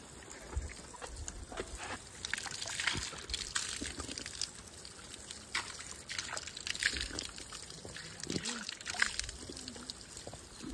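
Steady trickling and splashing of water flowing from a large pipe, continuous and fairly close, with outdoor village background noise throughout.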